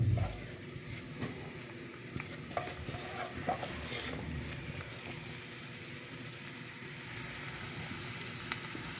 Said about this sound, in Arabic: غنخلي البصيله ديالي تشحر لي